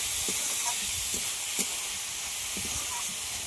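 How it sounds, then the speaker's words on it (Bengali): Red lentils frying with ginger, garlic and spices in a pan for masoor dal with pointed gourd, a soft continuous hiss and sizzle with faint periodic scraping of a spoon stirring. "সব কিছুর সঙ্গে মসুর ডালটা 1 মিনিট মতো ভেজে নেব।"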